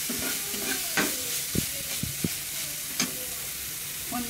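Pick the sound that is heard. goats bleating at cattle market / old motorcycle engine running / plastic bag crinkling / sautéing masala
sautéing masala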